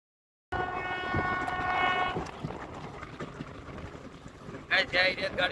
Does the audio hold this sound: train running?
yes